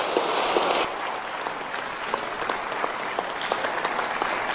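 Audience applause at a contemporary music competition prize announcement, a steady, sustained wash of many hands clapping, with a few sharper claps standing out near the microphone.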